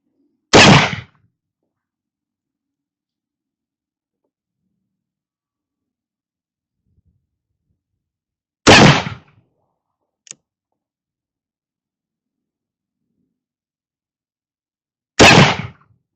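Three sharp, isolated gunshots from a Dragoon revolver in a video game, spaced several seconds apart with silence between, plus a faint click.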